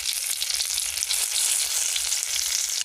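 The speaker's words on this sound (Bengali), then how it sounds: "তেজপাতা শুকনো লঙ্কা পাঁচ ফোড়ন কালো জিরে আর জিরে ফোড়ন সব একসঙ্গে দিয়ে দিলাম" Bay leaf, dried red chillies, panch phoron, nigella and cumin seeds crackle and sizzle in hot oil, a dense, steady frying hiss that holds loud and close throughout before cutting off abruptly at the end.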